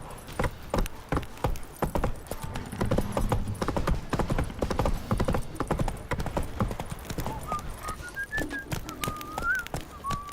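Hooves of Roach, Geralt's horse in The Witcher 3, clip-clop in a steady trotting rhythm close by, with birdsong and a whistling call rising near the end over faint ambient game sound.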